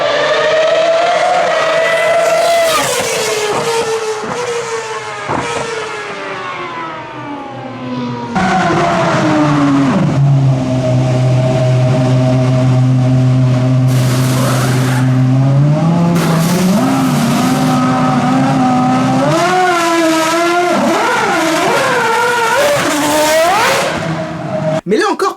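A Ferrari race car driven hard by a professional at Spa Ferrari Racing Days wails loudly through rising and falling revs, dropping under heavy braking and climbing again, with some tyre squeal and people talking over it.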